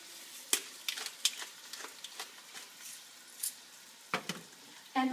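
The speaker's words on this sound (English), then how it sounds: "let those simmer for just a little while" Salted and peppered onions caramelize in a pan for an Italian red sauce, giving a soft, quiet sizzle with scattered light crackles and pops, heard alone.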